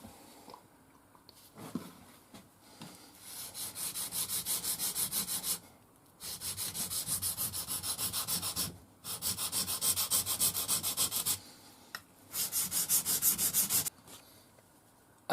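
Mora knives being convex-sharpened on abrasive laid over a thin foam pad, giving rhythmic back-and-forth scraping strokes in four long close bursts separated by short pauses.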